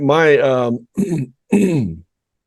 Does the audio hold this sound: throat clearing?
yes